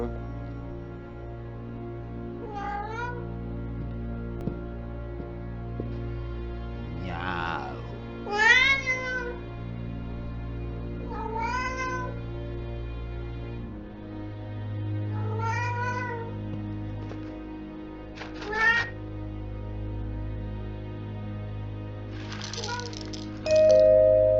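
A cat meows repeatedly in the Vertigo video game, rising and falling cries spaced every few seconds over a low steady game hum, with a louder caterwaul-like cry near the end.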